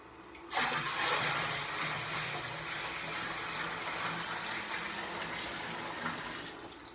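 Five gallons of water poured into a brewing container for turbo yeast wash, a steady loud rushing and splashing that starts abruptly and continues unbroken, close by with no talking.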